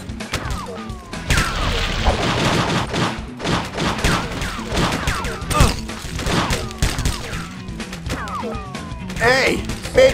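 Rapid, loud gunfire bursts in the crime video game True Crime: Streets of L.A., with dense overlapping shots, crashes and impacts filling the scene while a character shouts over the chaos.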